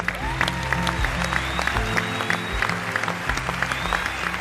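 A TV talent show audience applauds in a steady, dense burst of clapping that carries on evenly throughout, with voices and musical tones faintly mixed beneath it.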